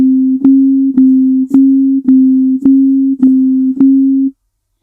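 Two steady pure tones about 50 cents apart sound together, their slight mistuning producing a regular wobbling beat about twice a second across a sustained, clear drone with no other sound.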